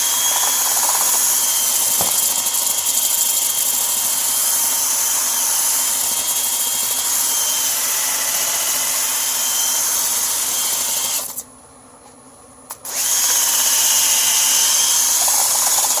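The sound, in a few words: power sander sanding a wooden bowl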